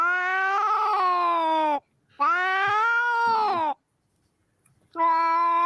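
A domestic cat gives three long, loud, drawn-out meows close to the microphone, wailing and almost caterwauling, with short silent gaps between them.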